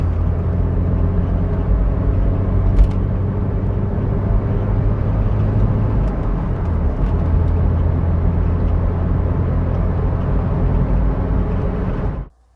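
A Phase 1 MG ZR 160 hot hatch with the 1.8 VVC engine drives along with a steady, loud engine drone and road rumble that holds throughout, then cuts off abruptly at the end.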